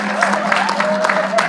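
Church congregation applauding for Sabrina during a Sunday service, a steady wash of clapping with a few voices audible in the mix, fairly near and continuous.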